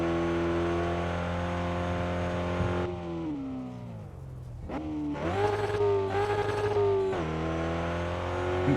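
A race car on a dirt track in the RevHead driving game, its engine droning at a steady pitch, dropping as it downshifts and then revving back up hard, loud and close throughout.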